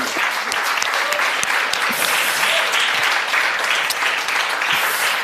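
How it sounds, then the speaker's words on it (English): Sustained applause from a room full of summit attendees, dense and steady clapping throughout at close range with no pauses. "you heard the applause, so we're not the only ones here in the room"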